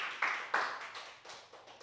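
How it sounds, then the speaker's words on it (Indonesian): Several bursts of hand clapping from an audience at a church-style talk, a few distinct claps in uneven rhythm, brief and fairly close, fading between bursts with no talking. "Beri tepuk tangan untuk orang-orang yang setia dalam perkara kecil."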